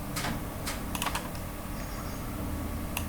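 Typing on a computer keyboard while writing HTML code for radio buttons: quiet, irregular clusters of key clicks, close to the mic, over a steady background hiss, with no talking.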